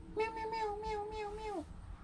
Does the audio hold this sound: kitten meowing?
yes